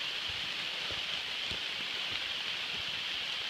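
Rain falling on a hiking trail in Vermont, a steady faint hiss of drops with soft scattered patters on nearby surfaces, continuous and without talk.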